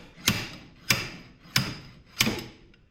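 Slide hammer knocking a bearing out of a car, four sharp metallic knocks at an even pace, each with a short ringing decay, close and clear with no talking.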